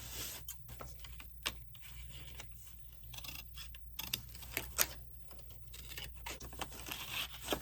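Rapid, close snips of scissors cutting around burlap for a Dollar Tree Christmas craft, irregular clipping bursts with short pauses over a quiet room hum.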